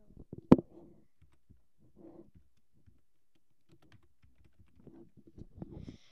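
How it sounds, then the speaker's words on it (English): Soft, sparse keystrokes on a Mac computer keyboard in a quiet room, a few isolated clicks with one louder tap near the start. "I'm just gonna type in the name of it"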